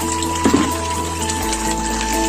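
Water is being filled at a village home, a steady gushing flow with a pump-like hum, close and continuous.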